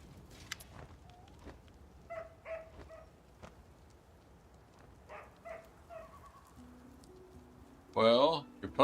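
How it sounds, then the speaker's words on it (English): A dog in Pathfinder: Kingmaker gives short barks and yelps at intervals, then a loud whining whimper near the end, with game music and brief voices around it. "your potion made your dog go mad and attack me"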